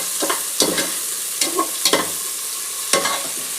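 Onions sizzle in a pan as a tempering for upma while a spoon scrapes and stirs in several quick, uneven strokes, close up.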